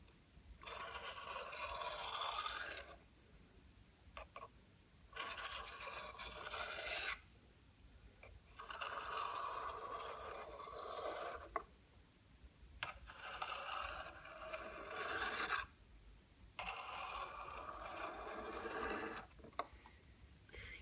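Steady rasping strokes of a Scandinavian grind knife drawn along a sharpening stone, several passes of about two to three seconds each separated by short pauses, close and fairly quiet with no talking.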